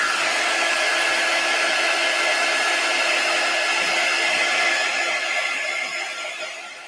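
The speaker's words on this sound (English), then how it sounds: "our paste dries really fast with our heat tool" A heat tool blows a steady, loud whoosh to dry Chalk Couture chalk paste on a porch decor craft piece, running continuously for several seconds and tapering off at the end, with no talking.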